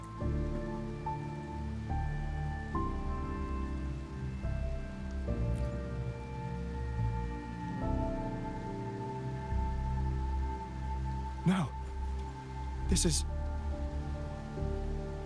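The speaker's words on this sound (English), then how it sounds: "It's the real Retroact rain." Steady rainfall in the Wuthering Waves video game, a continuous hiss of drops on surfaces running under game music and spoken dialogue, with a couple of brief sharp bursts near the end.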